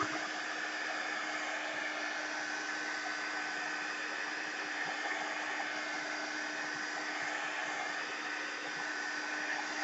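Hair dryer blowing steadily at close range over a mixed media artwork, a continuous broadband whoosh with no speech for the whole stretch.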